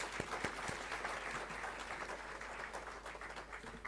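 An audience applauds at a 2023 convocation ceremony, steady faint clapping from many hands, fairly distant and continuous for a few seconds with no voices.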